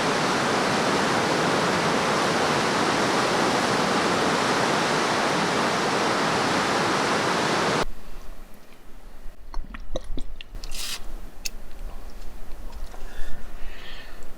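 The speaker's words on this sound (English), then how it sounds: "Plus it was surprisingly noisy next to the river. This is the raw audio without adjusting the volume." A river in the Namibian desert during a flash flood roars loudly and steadily for about eight seconds, a dense close wash of rushing water, then gives way to a much quieter scene with scattered faint clicks and handling noises.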